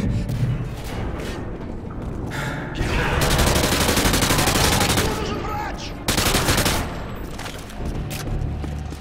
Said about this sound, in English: How the hell they can see me though? And now they only shooting me.